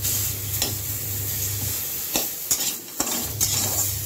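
Stirring a mustard-seed-tempered dish in a pan, with scraping utensil strokes and clinks over a steady low sizzle, the louder strikes coming in a few irregular bursts.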